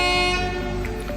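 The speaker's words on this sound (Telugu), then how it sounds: "ట్రైన్ సిగ్నల్ ఇచ్చేసింది" A train horn at Bibinagar station near Hyderabad, a steady sustained toot from a sleeper-class train, held loud and constant for the whole short moment, with no voices.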